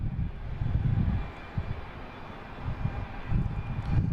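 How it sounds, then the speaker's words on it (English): A United Airlines Boeing 737 bound for Newark takes off at Boston Logan, a steady distant roar of jet engines with low rumble and wind buffeting, no voices. "All right, next taking off, United Airlines heading to Newark."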